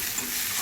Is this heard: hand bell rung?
no